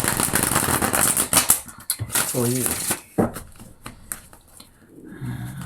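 Tarot cards are shuffled in quick, crisp riffling bursts close up, while a voice speaks over and between the shuffles.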